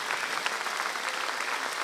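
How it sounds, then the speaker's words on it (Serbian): Audience applause at a television show, a soft, steady wash of many hands clapping, heard from a distance and fairly faint. "molim još jedan aplauz za Ćiru"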